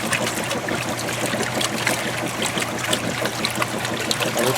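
A Kenmore 80 Series washing machine churns through rinse agitation, giving a steady, close sloshing and trickling of water with a low mechanical hum underneath and no pauses.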